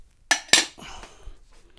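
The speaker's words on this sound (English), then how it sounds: "And get our knob off. The vise out of the way." A lock knob comes off a metal vise with two sharp, close metallic clinks in quick succession, followed by softer rattling taps and small clicks as the metal parts settle.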